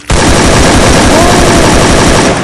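Rapid automatic gunfire in a video game during an esports tournament final in Toraja roars as one loud, continuous burst of shots that fills the whole moment.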